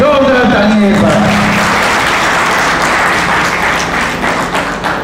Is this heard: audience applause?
yes